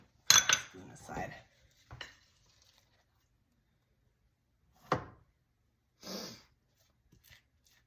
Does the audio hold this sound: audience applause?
no